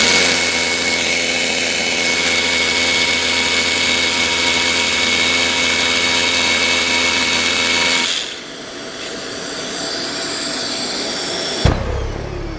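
Hilti drill boring into a floor with active dust extraction attached, a loud steady motorized whine and drone for about eight seconds, then a quieter vacuum-like hum with a sharp knock near the end.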